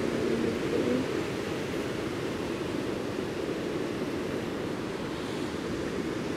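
Steady ocean surf washes on without pause, a broad, even roar of waves with some wind rush, close and moderately loud, with no voices over it.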